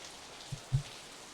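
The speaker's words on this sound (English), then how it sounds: "It was raining." Steady midwinter rain in the Steins;Gate 0 video game, a soft continuous hiss of falling water with a couple of dull low thuds partway through.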